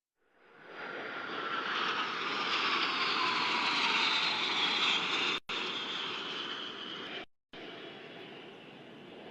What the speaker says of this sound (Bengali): 5টি K-8W বিমানের সমন্বয়ে গঠিত একটি 5-শিপার অ্যারোহেড ফরমেশন চমৎকার দক্ষতার সাথে প্রদর্শন করছে